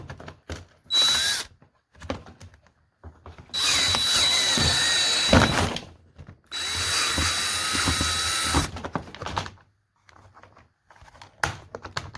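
Power drill boring a larger hole for a wire inside a Jeep XJ cabin, three sustained whining bursts with short pauses and small clicks and handling noises between them, close and fairly loud.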